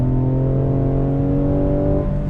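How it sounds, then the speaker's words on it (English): Ford Explorer ST with a 3-liter EcoBoost twin-turbo engine and all-wheel drive pulls away hard from a standstill, a loud steady engine drone with rising tonal whine heard from inside the cabin, shifting character near the end. "that 3-liter EcoBoost twin turbo engine with all-wheel drive. Here we go, from a dead stop, it digs down and we are off"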